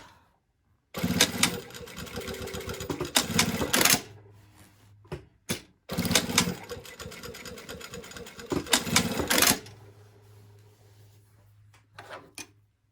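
A sewing machine stitches through jeans fabric in two long runs of busy mechanical whirring, each a few seconds long, separated by short pauses with clicks and handling noises, and a low hum lingering between runs.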